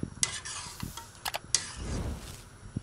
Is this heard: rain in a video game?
no